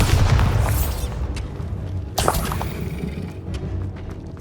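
Bombarda spell blasts in Hogwarts Legacy combat, heavy booming explosions with debris and whooshing rumble sustained across the clip and a fresh burst partway through.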